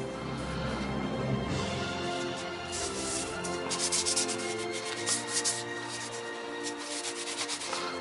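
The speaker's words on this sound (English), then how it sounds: "This is 3000 grit. It's very fine. And as you rub the parts, it actually almost polishes it." Very fine 3000-grit sandpaper rubs back and forth over plastic phaser kit parts, a continuous close, steady scratchy friction with small surges in intensity and no speech.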